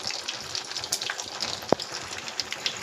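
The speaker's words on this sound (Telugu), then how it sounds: "ఆయిల్ హీట్ అయింది. తాలింపు గింజలు వేసుకుందాం." Tempering seeds hit hot oil in a pan while a ridge gourd chutney is made, giving a steady soft sizzle with faint crackles and one sharp pop near the middle.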